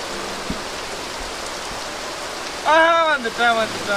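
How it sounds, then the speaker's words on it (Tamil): Heavy rain pours steadily as broadband noise during an evening outing in Pondicherry, with faint scattered sounds in the first part and a person's voice rising clearly over the downpour near the end. "செம்ம மழை பெய்யுது"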